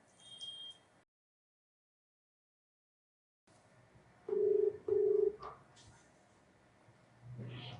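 A telephone call rings out with two steady ringback tones on the line after a stretch of silence, with a voice briefly heard before and a faint sound at the end.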